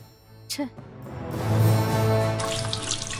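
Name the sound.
water being poured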